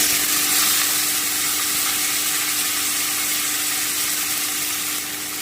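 Beetroot lightly frying in a pan for vegetable chops, a steady, even sizzle that holds at one level throughout with no voices over it.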